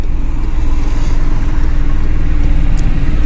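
A car engine hums and revs steadily up close while the clutch is held at half engagement for a hill start during driving practice, loud and continuous with no talking.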